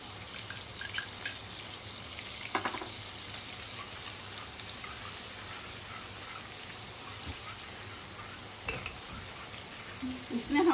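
Cumin seeds and ginger paste fry in melted butter for pav bhaji with a soft, continuous sizzle and crackle, broken by a few brief spatters and stirring clicks, growing a little louder at the end.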